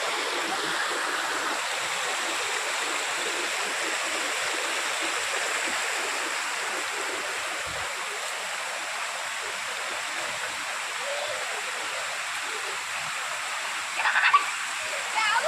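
A waterfall and rocky stream in Kasaragod roar as a steady, broadband wash of rushing water, close and unbroken, with a brief knock near the end.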